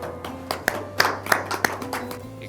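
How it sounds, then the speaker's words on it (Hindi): A few scattered hand claps from an audience at a Hindi shayari poetry recital, sparse and fairly soft, with a low hum underneath. "आइए जोरदार तालियों में स्वागत करते हैं"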